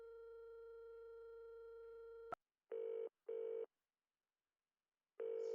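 A telephone rings in the Nancy Drew video game, a call placed from a phone in Ireland: a long steady electronic tone gives way to clean, evenly spaced double-pulse rings with silent gaps between them.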